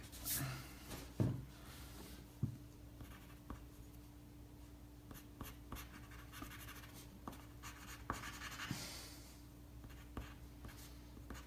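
A pencil scratches steadily across paper up close, with continuous soft strokes and a few sharper taps and scrapes.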